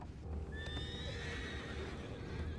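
A horse whinnies in a long, wavering call over a steady low rumble, with faint hoof clops underneath, in the video game Red Dead Redemption 2.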